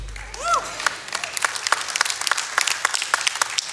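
At the start of a church sermon the congregation claps, with scattered distinct claps building into a loose, rhythmic run, and a brief whistle-like voice sound early on.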